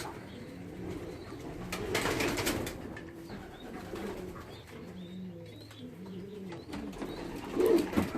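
Racing pigeons just back from a 142 km race coo repeatedly in low, throaty rolling calls, close by, with occasional soft chirps and a flutter of activity around them.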